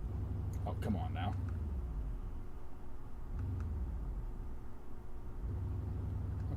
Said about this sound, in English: for some reason the car will not turn off